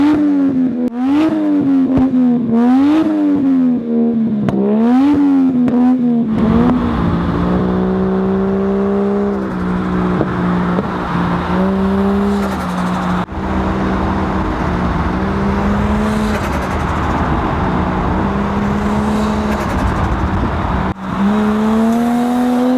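A Toyota Crown with a 1JZ engine revs hard from inside the cabin, rising and falling in pitch through several gear changes, then pulls into a long sustained acceleration with whine and engine roar, loud and close.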